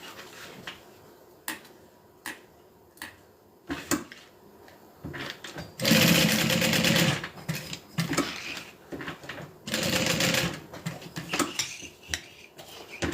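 A sewing machine stitches down a clasp on a crossbody bag strap made of webbing, running in two short bursts between clicks, taps and handling noises, with no talking.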